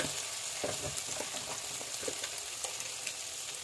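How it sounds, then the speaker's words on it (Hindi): Steady, loud sizzling of peas and onions frying in hot oil in a wok, with a few light stirring clicks and no voices. "कढ़ाई में तेल गर्म होने देंगे, उसके बाद मटर डालेंगे, प्याज डालेंगे"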